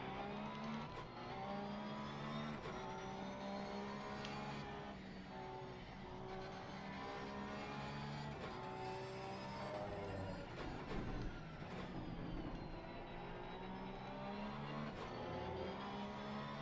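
A Porsche race car's engine drones steadily in a video game race at Kyalami, its harmonic pitch rising and falling with gear changes across the whole stretch, heard faintly and without speech.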